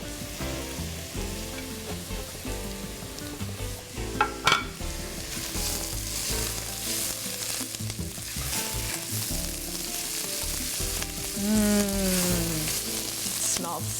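Garlic sautés in a pan, giving a steady, close sizzle and crackle that runs the whole time, with a few brief scrapes of stirring.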